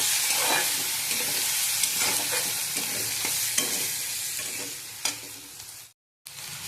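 A spice mix of red chili powder, homemade masala and turmeric sautés in oil, with a close, steady sizzle and repeated scraping stirs of a spoon against the pan, no voices, and a brief silent gap near the end.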